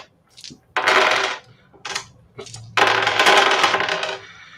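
Many dice clatter onto a tabletop during a tabletop roleplaying game session, several bursts of rattling and tumbling, the last long and loud as a big handful spills and settles.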